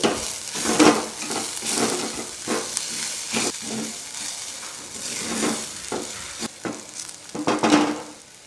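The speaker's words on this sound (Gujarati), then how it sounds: "હવે હલાવતા એક મિનિટ માટે ચડવા દઈએ" Green peas with sesame seeds and salt are stirred in a sizzling pan for a Gujarati chaat, with a steady frying hiss and repeated scraping strokes of the spoon, close up and without talk.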